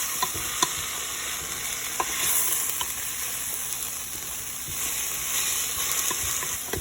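Baked jackfruit, peppers and onions fry over raised heat for a vegan Philly cheesesteak, giving a steady, close sizzle with occasional stirring scrapes and faint clicks, and no voices.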